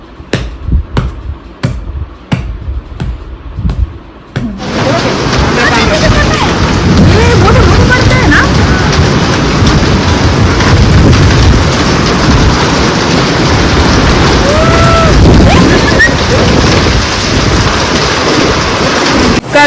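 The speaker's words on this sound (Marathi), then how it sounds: "जोराचा पाऊस आला आहे आणि अक्षरशः गारा सुद्धा पडत आहे" Heavy rain with hail pours down loudly and steadily, a dense drumming roar that starts abruptly after several seconds of sharp, separate knocks and continues unbroken to the end, with faint thunder-like rumbles underneath.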